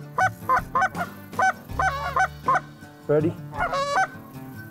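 Geese honk repeatedly during a duck and goose hunt in Alberta, with a loud, close series of nasal calls in uneven bursts, and a voice speaks briefly among them.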